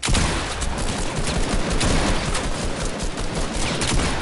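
Rapid assault rifle hipfire fills a shooter video game, a dense, loud, continuous stream of gunshots with no pauses and no talk.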